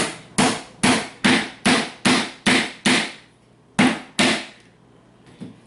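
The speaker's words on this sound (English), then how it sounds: "Then I'm going to nail it all the rest of the way in." A hammer drives a nail into a wooden beehive frame to secure fine stainless steel wire for wax foundation: nine sharp, evenly spaced blows, a short pause, two more strikes, then a faint tap.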